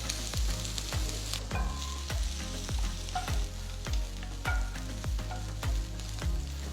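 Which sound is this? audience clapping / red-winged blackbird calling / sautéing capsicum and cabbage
sautéing capsicum and cabbage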